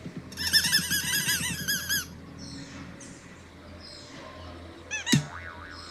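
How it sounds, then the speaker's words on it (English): Two birds calling while defending their nest, a rapid series of loud squeaky, whinny-like calls for two seconds, then fainter chirps and a sharp squawk near the end. "Those are two birds protecting their nest."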